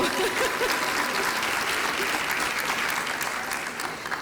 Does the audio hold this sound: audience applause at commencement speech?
yes